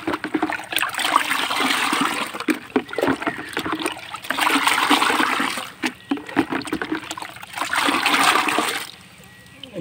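Water, mixed with vaccine for 500 broiler chickens, is poured and split among eleven small drinking pots, making bursts of splashing and trickling with short pauses between pours, and a voice talks now and then.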